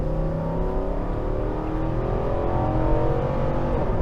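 A 2023 Nissan Armada's naturally aspirated V8 revs hard past 6,000 RPM, climbing steadily in pitch, a loud continuous roar with smooth rising harmonics, close by and with no talking.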